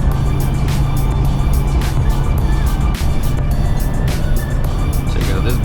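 A large gasoline-engined truck draws up and passes alongside on the road, its broad engine roar and tyre noise steady and close over continuous traffic rumble, with a voice talking over it.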